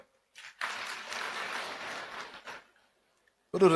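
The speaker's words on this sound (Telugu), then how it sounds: "సంతోషంగా చప్పట్లు కొట్టండి" Audience applause at a Telugu Christian sermon gathering, a steady burst of clapping lasting about two seconds after a short pause, fading out before a voice resumes.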